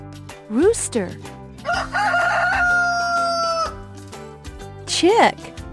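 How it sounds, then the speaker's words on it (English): A rooster crows once, loud and close, its rising-then-falling call clear against a steady musical backing, with a second crow following after a pause. "Rooster."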